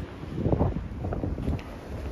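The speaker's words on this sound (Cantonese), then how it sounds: "依家咁樣行呢，逆風而行呢，真係好凍啊，好大風啊" Strong gusts of a winter storm in Birmingham, England batter the microphone outdoors, a loud, uneven roar that surges and dips on a cold street strewn with fallen branches.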